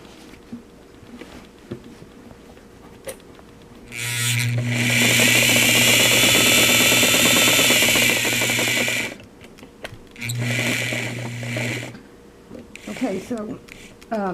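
A Singer Model 237 sewing machine stitches a patch onto denim jeans in two runs, a long steady mechanical whir and a shorter burst, close up with a faint voice nearby.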